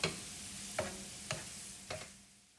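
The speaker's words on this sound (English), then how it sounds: "Add the garlic and fry until golden brown." Garlic fries in olive oil in a nonstick pan over medium-high heat, a steady soft sizzle close by, punctuated by three or four light taps of a utensil stirring.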